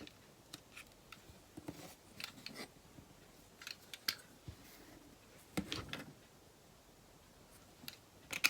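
Scissors cut through card for junk journal specimen cards, with quiet, close, irregular snips and clicks scattered across the clip.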